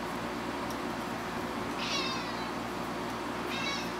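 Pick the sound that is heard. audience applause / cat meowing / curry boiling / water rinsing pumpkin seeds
cat meowing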